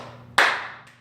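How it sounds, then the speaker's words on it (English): A single loud, close hand clap marks a quarter-note beat in a 3/4 rhythm exercise, followed by a much fainter clap, each ringing briefly in a quiet room. "The hard clap, of course, is my quarter."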